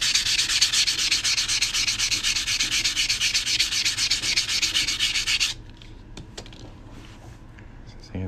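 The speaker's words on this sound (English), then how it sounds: "Let me sand away." A steel coin being sanded for a coin ring gives off a dense, continuous rasping scrub for about five seconds, then stops abruptly, leaving faint scattered clicks and handling noise.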